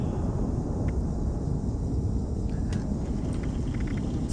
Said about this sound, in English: It's kind of like thunder in the background, you know?